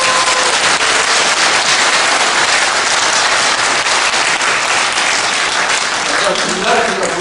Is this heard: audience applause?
yes